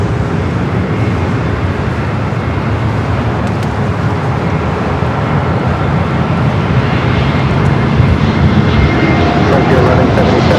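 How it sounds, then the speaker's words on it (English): Continuous loud roar of an Airbus A321neo jet arriving at LAX, a steady broadband engine rush with faint traffic-like background noise throughout. "A321 Neo up next for arrival."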